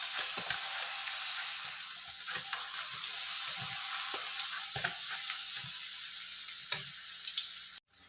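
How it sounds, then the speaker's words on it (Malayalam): Thin cassava slices fry in hot oil for chips, a soft continuous bubbling hiss with scattered faint crackles and a few light knocks, ending in a brief clatter; no talk. "നമ്മൾ എണ്ണ ചൂടായിട്ടുണ്ട്. അതിലോട്ട് മരിച്ചിനി ചെത്തിയിട്ട് കൊടുക്കാം."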